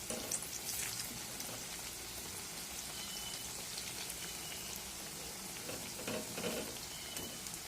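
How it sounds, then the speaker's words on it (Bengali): Palm fruit pitha deep-frying in hot oil, a steady dense crackling sizzle that runs the whole time with small bursts of bubbling, close and fairly loud, no voices. "তেলে তো ভাজা হচ্ছে"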